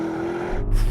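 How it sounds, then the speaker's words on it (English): An Audi RS Q8 SUV launching hard from a standstill with the throttle floored, a short burst of engine roar building into a deep low rumble, loud and close. "put the gearbox into sport, the stability control into sport as well, then just left foot on the brake, floor the throttle, and launch it"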